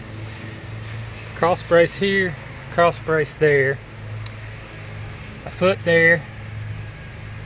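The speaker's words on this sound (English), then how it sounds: "you have to excuse the lawnmower going" A lawnmower runs nearby as a steady low drone throughout, while someone talks in short bursts over it.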